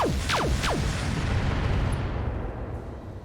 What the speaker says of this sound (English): we're going to fire this. This will be our last round of Gauss Rifle HA-20s